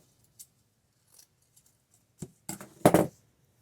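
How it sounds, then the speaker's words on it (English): Scissors snip through a non-wired ribbon: a few faint ticks, then several quick, close crunching cuts that build to a final louder snip. "I'm going to go ahead and cut it at about 9 inches."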